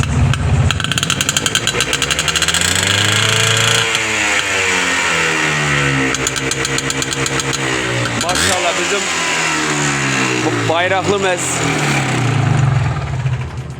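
A Planet 5 car engine revs repeatedly through a loud, rumbling MZ exhaust, rising and falling in pitch, while someone speaks briefly over it.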